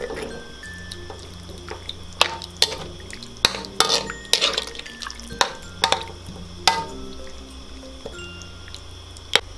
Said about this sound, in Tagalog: Ngayon po ay hahaluin po muna natin to.